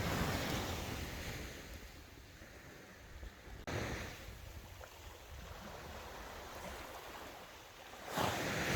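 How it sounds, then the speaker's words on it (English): Sea waves of an incoming tide at Shanklin wash onto the shore in slow surges, a broad rushing roar mixed with wind buffeting the microphone, with a fresh swell building near the end. "the sea's really, the tide is really coming up"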